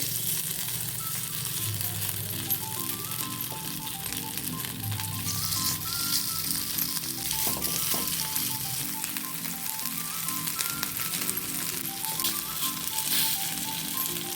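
Sabudana appe frying in an appe pan with a little oil, giving a steady, close sizzle that runs without a break, with faint clinks and stirring noises now and then. No one speaks.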